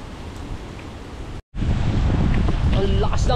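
Strong typhoon wind buffets the microphone in continuous roaring gusts near a flooded shoreline, with a brief dropout midway and a voice faintly heard toward the end.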